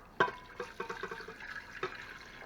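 Four cups of beef broth made from bouillon pour into an Instant Pot, a sharp initial splash followed by a run of small close liquid gurgles and drips that fade off.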